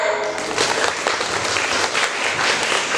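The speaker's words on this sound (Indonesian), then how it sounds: "Beri tepuk tangan." Students and audience applaud at a school student-council (OSIS) candidate debate at SMPN 2 Srono, giving loud, continuous clapping that stays even throughout, with no talk over it.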